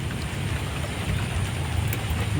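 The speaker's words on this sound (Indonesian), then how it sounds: "tiba-tiba turun hujan" Steady rain falling on a papaya, banana and eggplant garden, an even dense hiss of drops with a low rumbling undertone, continuous and close, no voices.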